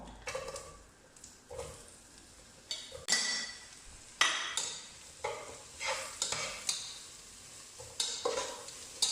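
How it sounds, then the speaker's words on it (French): Butter-softened onions frying in a pan for a lasagne bolognese, with a steady sizzle broken by repeated scraping stir strokes and utensil clinks, close and moderately loud, no talk. "Après avoir fait fondre mon beurre, je vais mettre les oignons."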